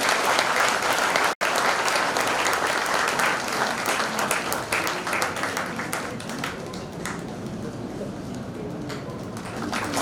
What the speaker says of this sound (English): I request everybody to please give a round of applause